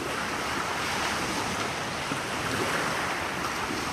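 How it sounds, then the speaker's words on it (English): Waves washing onto the Lake Michigan shore at Montrose Beach in Chicago, a steady broadband surf roar with wind noise buffeting the microphone, no voices. "This is Montrose Beach"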